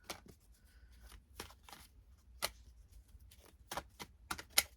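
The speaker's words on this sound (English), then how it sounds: "So I make sure they get a really nice shuffle." Playing cards are shuffled in quick, crisp riffles and snaps, close up and irregular, with no talking.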